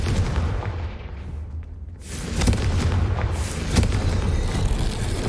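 A Confringo fire spell cast in Hogwarts Legacy, heard as a loud booming blast at about two and a half seconds with a second burst near four seconds, over a dense rumbling game soundscape with no talk.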